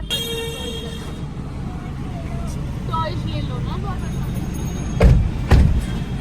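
Riding inside a car through city streets in Patna on the way to a gurdwara, with a steady engine and road rumble throughout, traffic noise outside and two short thumps or horn blasts near the end.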